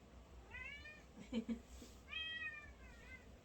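A cat meows twice nearby, drawn-out tonal cries separated by a brief pause, with a soft low voice murmuring in between.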